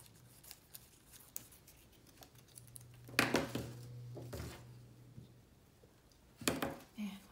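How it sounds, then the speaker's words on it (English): Scissors trim the straight edges off paper prints in two brief bursts of close, crisp snipping, separated by quiet rustles of paper being handled. "Just gonna cut a little of these straight edges off"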